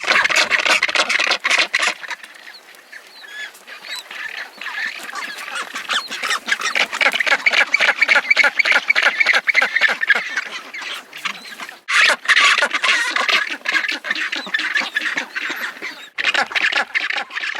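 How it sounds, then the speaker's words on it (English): Dense colony of rockhopper penguins and black-browed albatrosses on a Falklands island: continuous loud, raucous braying and cackling calls overlapping without a break, close by, with no talking. "home to black-browed albatross and rockhopper penguins"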